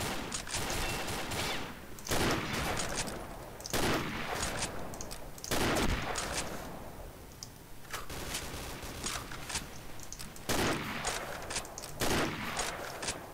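Gunfire in the online shooter Combat Arms, with repeated loud bursts of shots every couple of seconds over continuous battle noise, fired up close.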